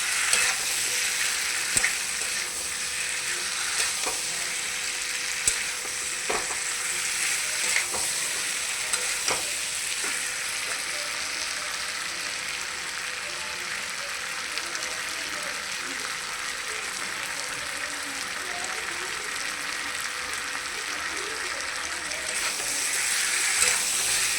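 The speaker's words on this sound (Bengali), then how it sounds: "কড়াতে নাড়াচাড়া করাটা খুব ভালো হয়" Curry fries and sizzles in a kadai (wok) under continuous stirring, a steady hiss broken by occasional scraping and clicking strokes of the spoon against the metal, close and unbroken throughout.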